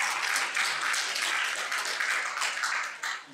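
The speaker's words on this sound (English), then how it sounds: "please round of applause to Mike" A conference audience at an Azure automation talk applauds, a dense, steady wash of many hands clapping that carries on evenly before thinning slightly at the end, with no speech.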